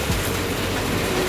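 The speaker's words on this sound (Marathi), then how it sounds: "ट्रेन गेली आता." A train passes through steady rain near a home, a continuous low rumble with faint rail clatter holding at an even level throughout, with no voices.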